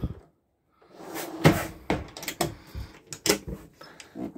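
Kitchen drawers and cupboard fittings in a Bailey Autograph 745 motorhome clunking and knocking shut in a quick series of sharp, close thuds after a brief silence.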